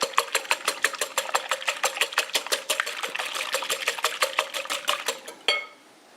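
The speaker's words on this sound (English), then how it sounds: "We'll just beat them quickly first." An electric mixer beating eggs in a bowl for chocolate chip cookie dough, a fast rattling whir with regular clicking pulses, close and steady before it stops abruptly near the end.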